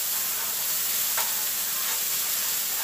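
Carrots, celery and onions sizzle in a hot skillet as they are stirred, a dense, constant frying hiss up close with one brief scraping pass of the utensil and no talking.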